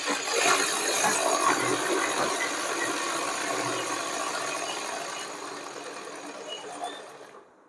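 A sewing machine stitches cotton dress fabric in a fast, steady whirring patter that runs close and continuous before slowing and stopping at the end.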